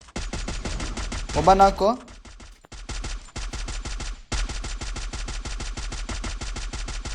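Rapid bursts of video game gunfire, loud and close, rattle in quick repeated volleys with brief pauses, while players talk excitedly over the shooting.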